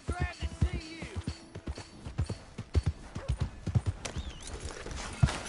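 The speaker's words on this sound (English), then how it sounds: "My horse!" Horse hooves clip-clop in a PS4 video game, a quick, uneven run of sharp, close hoofbeats that continues throughout, with a voice or game sounds briefly over the start.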